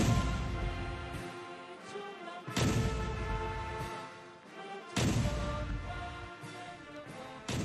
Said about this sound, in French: La cérémonie a débuté avec une salve de 21 coups de canon accompagnée de l'hymne national